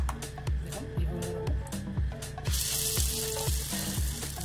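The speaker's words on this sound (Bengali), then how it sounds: "আমরা এবার একে একে পকোড়াগুলো ছেড়ে দেবো।" Chana dal and potato pakoras dropped one by one into hot oil, sizzling and bubbling steadily with soft repeated plops and clatter as each piece goes in.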